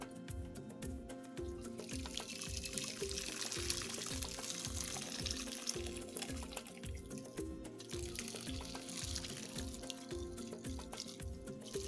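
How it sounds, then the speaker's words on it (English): Hibiscus and berry drink mixture pours and trickles steadily through a strainer, with a soft, continuous splashing that carries on without pause, close by and fairly quiet. "So we're going to go ahead and strain the mixture."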